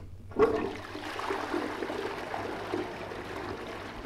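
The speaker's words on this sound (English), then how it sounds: "You can flush the toilet." Toilet flush in a shower horror video game: a watery rush starts abruptly after a brief quiet moment and pours steadily at moderate level to the end, with no talking over it.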